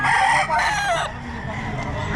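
A rooster crows loudly and close by at a rooster seller's stall, one long drawn-out call with clucking fowl and market bustle around it, and someone speaks briefly in the background.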